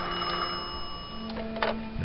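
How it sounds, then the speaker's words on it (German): An old telephone rings in the horror game Scratches, a short trilling bell burst over a steady low room drone. "Jetzt klingelt. Jetzt ruft's an, Alter."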